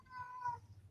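A house cat with a hurt paw meows once, a short, fairly faint, drawn-out cry close to the microphone, heard alone without talk.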